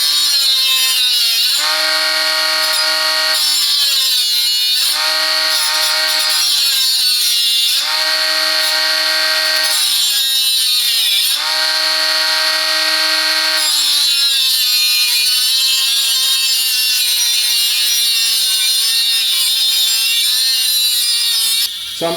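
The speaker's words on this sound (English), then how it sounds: "let's move on now and test this 20V angle grinder. Starting with this metal tube, the thickness it is 3mm" A Parkside 20V cordless angle grinder cuts through a 3mm-thick metal tube with a loud, piercing, continuous whine. Its pitch sags repeatedly under pressure, then recovers, and no one speaks.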